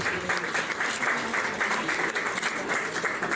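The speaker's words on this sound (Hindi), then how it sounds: "एक बार फिर तालियों के साथ अभिनंदन, अभिवादन।" Dense, steady applause from an audience filling an auditorium at a Jabalpur event on digital justice, sustained and fairly loud throughout with no break.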